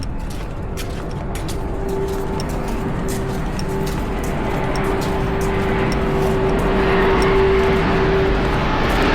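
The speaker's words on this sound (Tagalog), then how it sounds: "Aeroplano." An airplane passes overhead close by at a building site, its engine a loud steady roar with a whining tone that swells gradually, while faint tapping sounds come and go.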